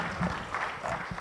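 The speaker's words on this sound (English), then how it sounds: "Let's give her a round of applause" A conference audience breaks into applause, a brief dense patter of clapping from a room of people at moderate distance.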